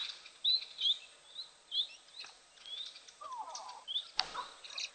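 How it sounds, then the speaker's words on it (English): Starlings call around a waterhole, a mix of thin whistles, chirps and a brief rattling phrase, scattered and fairly faint over quiet background with no talk. "Certainly some interesting calls coming from the starlings all around here."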